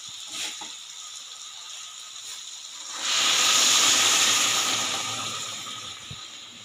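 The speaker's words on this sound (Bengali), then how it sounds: "এবার গরম জল দিয়ে দেবো" Hot water poured into a pan of jackfruit and potatoes frying in a kitchen gives a sudden loud hissing sizzle that swells midway, holds strongly, then slowly fades, following a quieter stretch of light frying.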